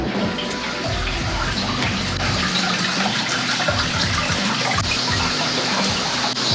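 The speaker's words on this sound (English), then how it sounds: "we have the sound of the river and the insects and the birds" Steady rushing flow of a river beside a traditional lodging in Japan, a continuous broadband wash of water with low rumbling churn, close and unbroken, with no talking over it.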